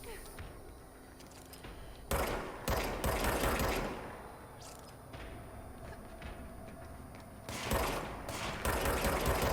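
Enemy gunfire in the video game Control crackles in several loud automatic bursts with short gaps between them, over a busy backdrop of game noise.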